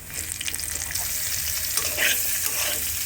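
Potatoes and carrots frying in hot oil for a cabbage and soybean vegetable curry, a steady close sizzle with scraping stirs throughout and a brief louder spatter near the end.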